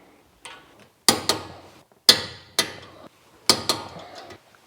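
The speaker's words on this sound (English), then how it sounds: "We're going to torque the two bolts through the knuckle onto this bracket at 100 Newton meters." A torque wrench on a Mitsubishi Lancer CE tightens two 17 mm bolts with threadlocker through the knuckle onto the brake bracket to 100 Nm. Three pairs of sharp metallic clicks sound close by in quiet surroundings.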